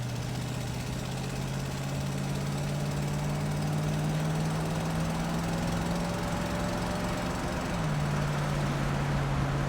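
A 1966 Ford Mustang with a 289ci V8 accelerates from a turn, a loud droning engine note climbing steadily in pitch, dropping briefly at a gear change, then rising again, with a hint of exhaust leak.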